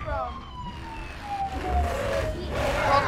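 Police car sirens wail and sweep in the Forza Horizon 4 racing game, fairly close over engine rumble, with players talking at the same time.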